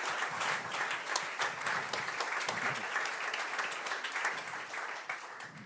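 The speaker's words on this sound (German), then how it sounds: "das war wirklich ein Applaus wert" An audience at a panel discussion at a vocational education conference claps steadily, a full, close wash of applause that holds evenly and eases slightly at the end, with no talking.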